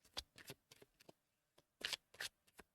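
Tarot-style cards being shuffled and laid out by hand for a reading, quiet rapid riffles and soft snaps in uneven clusters, close up with no voice.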